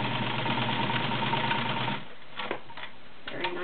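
A Kenmore model 1318 sewing machine stitches through eight layers of coarsely woven upholstery fabric, running in a fast steady close whir for about two seconds before stopping. Light handling clicks follow.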